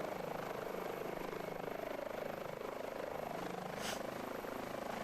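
An Airbus H145 helicopter sits on the ground with its engines idling, giving a steady, fairly faint whine and whooshing drone throughout with no talk.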